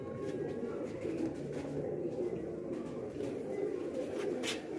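Kasuri breed pigeons coo at a pigeon event in Sargodha, their soft low calls running steadily under continuous nearby talking.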